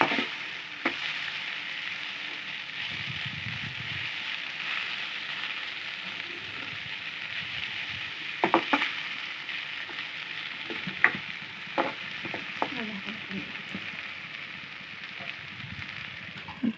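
Fried banana stem sizzling steadily in a pan, with intermittent scrapes and clinks of a spatula stirring it through the hiss.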